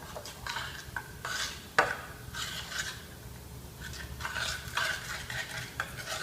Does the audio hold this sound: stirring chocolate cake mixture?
yes